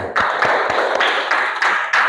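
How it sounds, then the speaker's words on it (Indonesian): Students in a classroom clap together for about two seconds, a dense round of hand claps with a loose, roughly regular pulse, close and fairly loud. No one speaks. "Tepuk tangan."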